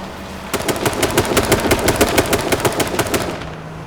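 Rapid bursts of automatic gunfire rake a car in the battle-royale video game H1Z1, dense steady shots lasting about three seconds after a brief quiet start, loud and close with no talk over them.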